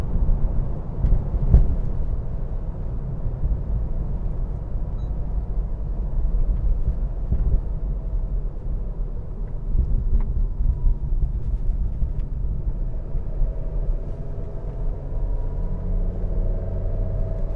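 A 2013 ninth-generation Honda Civic 2.0 takes a corner, its engine and road rumble forming a steady, loud low drone throughout with no talk.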